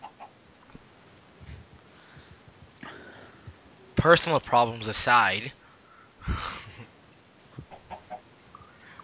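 A Minecraft chicken clucks in a short, loud burst of squawking calls, surrounded by players chatting over the game.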